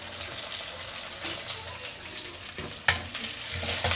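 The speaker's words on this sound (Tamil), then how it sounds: "எண்ணெய் ஊற்றுறேன். சோம்பு, வத்தல், வெங்காயத்தை போட்டுடலாம்." Fennel seeds, dried red chillies and onion frying in hot oil, a steady close sizzle with light stirring and one sharp clink of a utensil against the pan.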